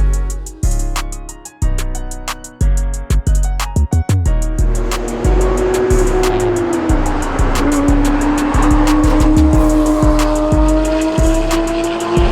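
Cars race around the Nürburgring, engines roaring past in a string of loud, close passes before one long, wavering tire squeal rises over continuous engine noise.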